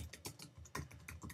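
Quick keystrokes on a computer keyboard in a graphic and web design office, a rapid irregular run of close, crisp clicks and taps with no talking.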